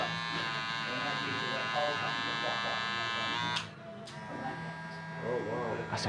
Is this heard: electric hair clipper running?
yes